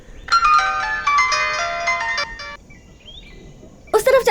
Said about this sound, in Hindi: फोन रिंग हो रहा है उनका।